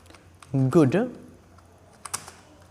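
Keys on a computer keyboard clack in a brief cluster while typing into MS Word, coming just after a short stretch of a voice; the clicks are close and fairly quiet.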